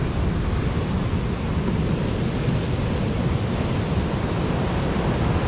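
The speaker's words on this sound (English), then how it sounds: "That is some nasty surf too." Rough ocean surf breaks on a New Smyrna Beach shoreline, a dense continuous roar of crashing waves mixed with gusty wind buffeting, loud and close with no voices.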